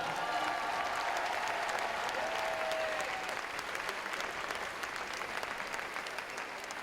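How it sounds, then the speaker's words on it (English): A large crowd applauds a Japanese climber at the men's lead and speed final of a world climbing championship, the clapping loud, dense and sustained throughout. "Applaudissements pour l'incroyable japonais qui grimpe"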